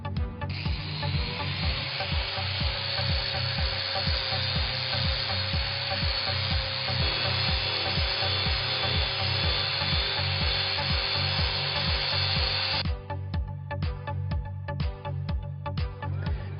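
A Quick Step disc on a Big Buff machine spinning at 7,000 RPM grinds down a weld on a flat sanitary metal surface, a steady, close, abrasive whine with rhythmic scraping that stops near the end.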